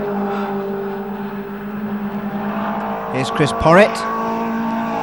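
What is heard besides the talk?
Caterham 7 race cars racing past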